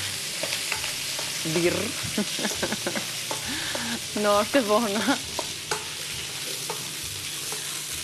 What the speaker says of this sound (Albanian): atëre kërkon që të bëjë edhe kaurdisjen, atë kthimin e patateve